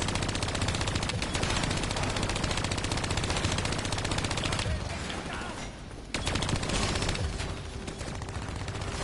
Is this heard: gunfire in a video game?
yes